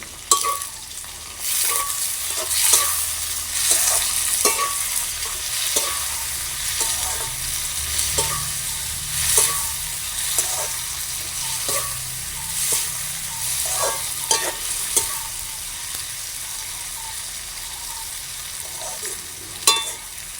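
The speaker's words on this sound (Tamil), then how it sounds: "இப்போ நான் கருவேப்பமிலையும் இதுக்காக சேர்த்து போட்டு வதக்க" Curry leaves sautéing in a pan for a tomato curry, giving a continuous sizzle broken by repeated scraping and stirring knocks of a utensil at an uneven rhythm.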